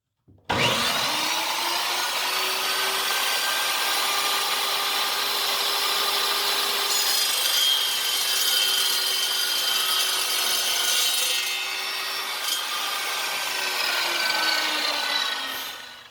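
A new chop saw cutting metal for a farm equipment repair runs as one continuous, loud, steady grinding whine for about fifteen seconds, starting abruptly and winding down at the end.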